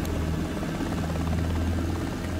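Helicopter rotor spinning up on an icy surface, rotor RPM rising under throttle and governor control; a loud, steady, close whine and thrum runs throughout with no talk.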